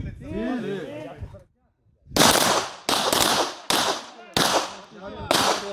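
Rifle shots ring out at a target during military training, five loud, sharp cracks spaced under a second apart with echoing tails. Someone speaks just before the firing begins.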